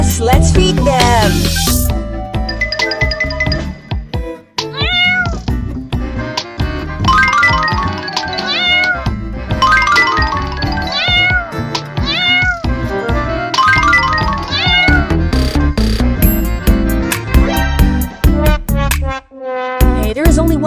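Cartoon kittens meow over and over, many high, wavering cries in quick succession, loud and close over a busy musical backing.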